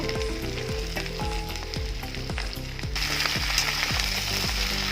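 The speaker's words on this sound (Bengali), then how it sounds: "डाटा आलूटा একটু ভেজে নেব" Vegetable stems and potatoes fry in a pan for a Bengali chorchori, a loud, steady sizzle broken by regular rhythmic scraping strokes of a spatula, close and alone with no speech.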